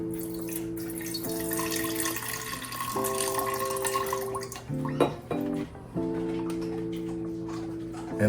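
Liquid drained out of a container in a DIY soil microbe lab setup for organic gardening, a continuous trickling pour with tonal ringing and a few gurgling breaks, close and moderately loud.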